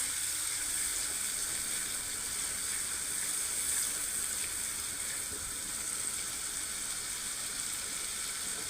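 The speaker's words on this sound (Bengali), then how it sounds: "সরিষা তিনটা বেটে রাখছি সেটা দিয়ে দেবো এটা একটু ভালোভাবে কষিয়ে নেবো" Prawn curry with mustard paste sautéing in a pan, a steady, close, continuous sizzle and fry hiss running throughout with no talk.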